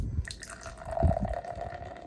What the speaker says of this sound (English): You guys are gonna love the foamy pour